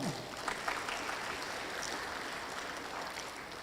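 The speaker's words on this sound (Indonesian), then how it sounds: "Tepuk tangan untuk Pak Kepala." An audience at a vocational school gathering claps for the headmaster, a fairly soft, sustained patter of many hands that starts a bit sharper and then evens out.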